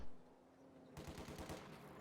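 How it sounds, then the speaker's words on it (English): Mortar shelling in a real-time strategy battle game, with a fast series of sharp, punchy blasts starting about a second in and repeating in a steady rapid rhythm over a quiet low hum. "Mortar firing away,"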